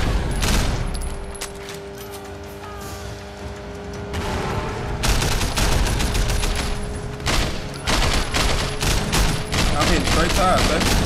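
Car-mounted guns firing in the video game Sleeping Dogs: loud, sustained rapid fusillades with repeated sharp bursts and booms throughout, heavy and close, with game noise and some speech mixed in.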